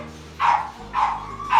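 A dog kept by a breeder barks three times at an even pace, close and loud, with each bark short and full-bodied and no talking over it.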